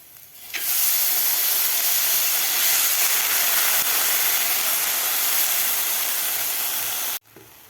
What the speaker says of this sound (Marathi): आता यामध्ये घालायचे आपल्याला भिजवून घेतलेले मूग घालायचे।